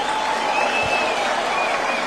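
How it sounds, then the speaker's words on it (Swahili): A crowd at a public address for the president breaks into loud, dense applause that holds steady throughout, with faint cheering and voices mixed into the roar. "Hebu tumpongeze rais kwa makofi tafadhali"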